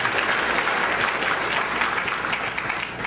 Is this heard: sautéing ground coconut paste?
no